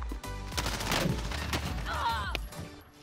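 Several gunshots and short bursts of fire crack out in a battle royale video game, sharp reports spread across the moment over a heavy low rumble.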